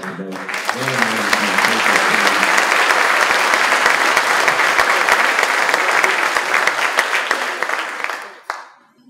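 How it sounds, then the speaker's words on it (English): Sustained applause from an audience at a celebration marking the 100th anniversary of the North Carolina Department of Transportation, dense and steady for about eight seconds before fading out. "So let's give a round of applause for those."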